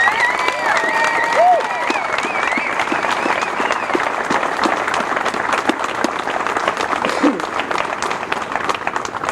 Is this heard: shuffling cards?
no